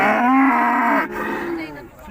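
Cattle at the Urzhar livestock market, including cows with calves, give a long loud moo that falls in pitch, followed by a second, quieter lowing call, with faint market noise in the background.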